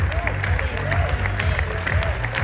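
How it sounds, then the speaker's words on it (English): A seated audience at a company's twentieth-anniversary event claps in a steady, dense wash of applause that fills the whole moment, fairly loud, with a faint voice or music running underneath. "We want to give you a round of applause."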